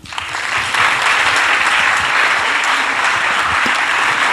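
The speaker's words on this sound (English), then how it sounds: "Let's give Maaike a warm round of applause" Warm applause from an academic event audience welcoming a speaker, clapping swelling quickly from a few hands into a full, dense, steady ovation that holds at a strong level.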